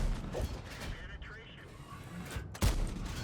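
A tank cannon fires in World of Tanks, a sharp, loud boom near the end, preceded by mechanical game noise and someone talking.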